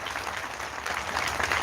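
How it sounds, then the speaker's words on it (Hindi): Conference audience at an Ambedkar ideology convention in Sarnath, Varanasi, breaking into loud continuous applause, a dense roar of many hands clapping that swells slightly toward the end. "जोरदार तालियों एटा से जनपद के लिए।"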